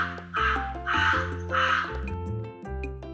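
A crow caws three times in a steady rhythm, harsh and fairly close, with light music playing underneath.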